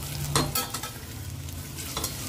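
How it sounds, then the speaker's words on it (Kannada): Ginger garlic paste fries in hot oil with mustard seeds and onion. A close spoon scrapes and stirs in a few quick strokes over a low, steady sizzle, with no voices. "ಇದು ಎಣ್ಣೆ ಸ್ವಲ್ಪ ಫ್ರೈ ಆಗಬೇಕು"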